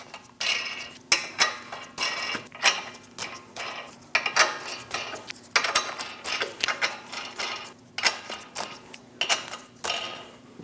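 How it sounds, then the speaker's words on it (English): Metal lug nuts are threaded by hand onto a wheel stud on a Chevrolet Express 2500 van, making a steady series of light, close metallic ticks and clinks in an irregular rhythm. "Install the 8 lug nuts by hand."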